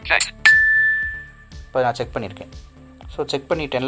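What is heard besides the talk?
ding-dong notification chime of a talking clock app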